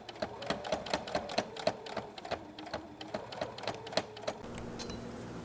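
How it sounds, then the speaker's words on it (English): A sewing machine stitches binding cut from an old quilt along the armholes of a quilted vest, running in quick repeated bursts of needle clatter, close and steady, then easing to a softer hum near the end. "So just fold it over again and put a stitch as close to the original stitch as you can."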